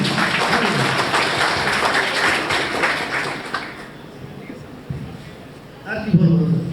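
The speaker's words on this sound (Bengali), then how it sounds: "নতুন কমিটিকে আমরা অন্তত কিছু না পারি একটু হাততালি দিয়ে ওদেরকে বরণ করে নিই" A crowd at an organisation's fourth-anniversary function claps for a newly announced committee. Dense, loud applause fills the first few seconds, then fades, and voices carry on over the room.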